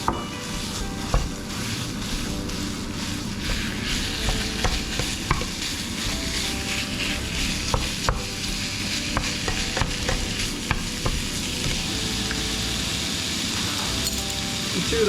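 Ground beef fries in a pan beside mushrooms with a dense, loud, continuous sizzle, while a utensil stirs and scrapes with frequent small clinks throughout.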